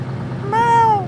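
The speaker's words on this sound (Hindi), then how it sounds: "ये क्या है? बीच सड़क पर बिल्ली?" A cat on a road gives a single drawn-out, rising-and-falling meow, loud and close over a low background rumble.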